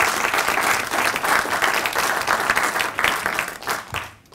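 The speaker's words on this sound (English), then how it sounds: "Professor Veli Mitova, let's give her a round of applause." Applause fills a hall at a university vice-chancellor's awards ceremony for teaching, research and support, a loud crowd of clapping hands swelling and holding before tapering off at the end.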